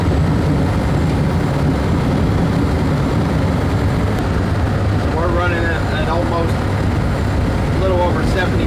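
A 2002 International school bus engine pulls along the road under acceleration, a loud, steady low-pitched drone with broad road rumble, and a voice talking over it in the later seconds.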